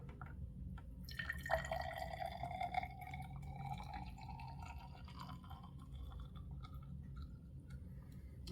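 Thin trickle of liquid being poured slowly and carefully, 30 millilitres, a faint rising pour tone for about two seconds followed by quiet drips and soft handling noises under steady low background hum.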